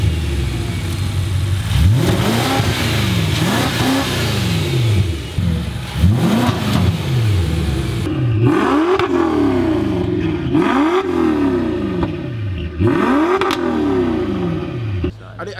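An Audi RS3 turbo engine is revved hard about seven times at a steady rhythm, each rise and fall close and loud, with a faint clatter between blips.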